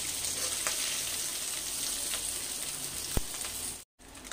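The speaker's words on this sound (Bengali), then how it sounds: "এ দেখো মাছগুলো সব ভাজা হয়ে গেছে, দেখো কি সুন্দর আলু ভাজার মতন হয়েছে।" Small fish fry in hot oil in a wok, a close, steady sizzle and spatter with a sharp tap or two and a brief drop to silence near the end.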